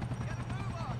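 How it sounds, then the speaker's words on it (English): A helicopter sets down in Grand Theft Auto 4, its rotor chop a low, thudding rumble under a voice. "Helicopter landed! Move in and take it."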